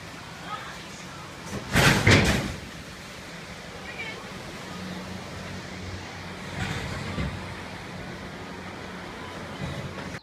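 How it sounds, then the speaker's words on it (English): A door is shut at a water park, heard as one loud, dull thump about two seconds in, over steady rushing water noise with a fainter bump later. "I'm gonna shut the door, okay?"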